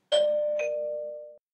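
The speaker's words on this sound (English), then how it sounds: "What's that? The doorbell." A two-tone doorbell chime rings once, a bright ding followed by a longer dong that fades out cleanly in a quiet room.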